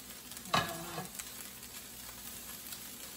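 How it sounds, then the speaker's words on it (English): A spoon stirring raw shrimp into a shrimp pie mixture in a pan on the stove, one sharp scrape then soft stirring over a quiet faint sizzle, close and low in level. "So again, we don't need to cook the shrimp, just mix them in"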